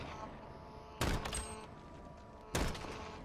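Two sharp bursts of gunfire from the Modern Warfare video game, each a loud crack with a short rattling tail, about a second and a half apart over a low game background.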